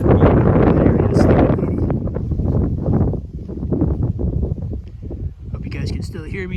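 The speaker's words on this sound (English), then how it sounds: "The wind's getting really loud up here" Strong gusts buffet the microphone on an early-autumn mountain trail down Mount Baldy near Eagle River, Alaska, a loud continuous roar that swells and eases beneath someone talking throughout.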